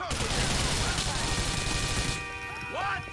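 Rapid bursts of gunfire in the video game GTA 4, a dense, loud volley of shots over game noise that cuts off partway, leaving a quieter stretch with tonal game sounds.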